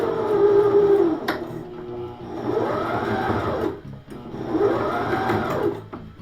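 A sewing machine back stitching the seam of a fabric passport case, its motor whirring steadily and close, in two runs with a brief pause between them.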